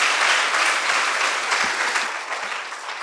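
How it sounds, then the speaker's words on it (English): Sustained applause from a large crowd at a high school debate competition, steady and loud, slowly tapering toward the end. "Give them a heftier round of applause."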